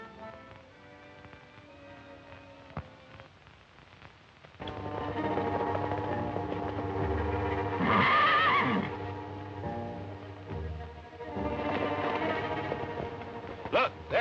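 A wild horse named Wildfire neighing in an old colour Western film, loud whinnies rising out of a quiet start over a music score, with a second shrill call near the end.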